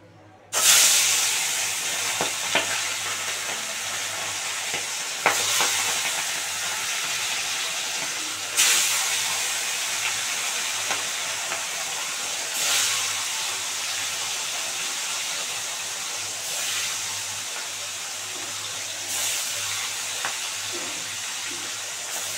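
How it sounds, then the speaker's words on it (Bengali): Fish fry in hot oil in a wok, a broad bright sizzle that flares loudly as pieces drop in, then settles into a steady hiss with several more sharp surges spaced a few seconds apart, close with no talking. "তেল গরম হয়ে গেছে, এবার মাছগুলো দিয়ে দেবো।"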